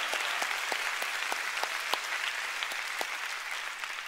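A church audience breaks into sustained applause, a steady wash of many hands clapping at an even level for several seconds, with a few sharper claps standing out.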